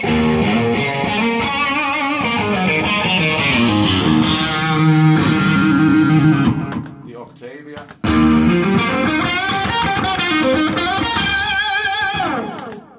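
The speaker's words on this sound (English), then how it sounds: "Or the fuzz." An electric guitar played through a fuzz pedal on a touring rig: thick, saturated notes and chords ring loud and close, with a brief break in the middle before the playing resumes.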